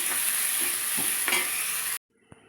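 Onions frying in a pan while being stirred, a constant close sizzle broken by several scraping stir strokes, then the heat noise stops abruptly leaving a near-silent tail with one faint knock; no talking.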